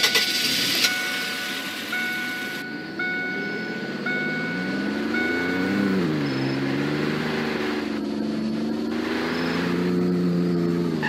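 A car engine drones in the Roblox game Greenville, its pitch rising and falling as it drives, with a series of evenly spaced electronic beeps early on and a steady mechanical hum throughout.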